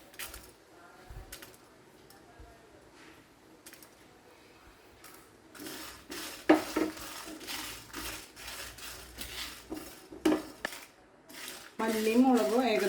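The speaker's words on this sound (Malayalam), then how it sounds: "മല്ലിയും മുളകും ഏകദേശം ഒന്ന് വറന്ന് വന്നിട്ടുണ്ട്" Dry chillies and coriander roast in a hot pan, with metallic clinks and scrapes from stirring. The sounds start sparse and quiet, then grow into a louder, busier clatter. A faint voice comes through now and then.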